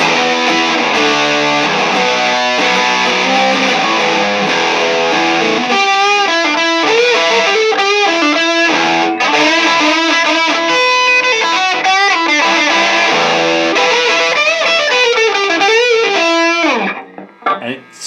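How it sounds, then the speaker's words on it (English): Loud overdriven electric guitar through a Rat distortion pedal at half distortion plays a sustained chordal riff with gritty, saturated tone, cutting off near the end. "Let's see what the Rat sounds like with half the distortion."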